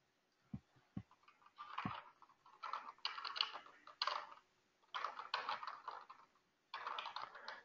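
Fingers type on a computer keyboard in close, quick bursts of clicking keystrokes, pausing briefly between runs, with no talking.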